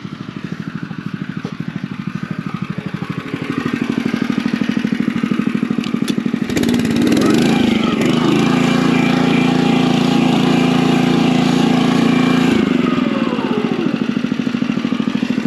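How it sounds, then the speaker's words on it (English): Honda small engines of the GX120, GX160 and GX200 class run on lawn equipment used for fall seeding. A steady mechanical drone grows louder after a few seconds and then holds at a strong, close hum with rattling. "we're running all Honda engines today"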